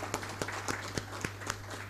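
At a maritime professionals' conference session, a few hands clap faintly in a slow, regular rhythm of distinct separate claps, quiet and distant over a steady electrical hum.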